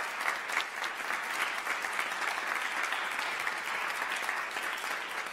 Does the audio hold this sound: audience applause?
yes